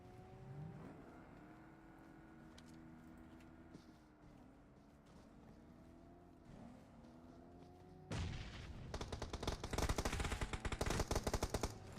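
A battle royale video game tournament plays out with a tonal engine drone and shifting mechanical sounds, then a loud burst of rapid automatic gunfire breaks in and continues to the end.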